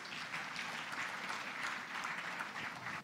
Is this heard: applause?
yes